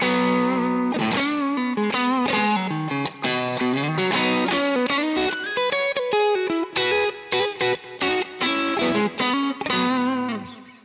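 A distorted electric guitar plays a busy, loud riff with chords and single notes, heard close through a Kemper amp with a 906 speaker cabinet and effects; no talking.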